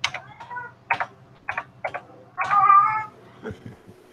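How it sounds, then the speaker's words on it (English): A cat meows several times in short, close, fairly loud calls, ending with one longer drawn-out meow and a few softer clicks. "But you are meowing."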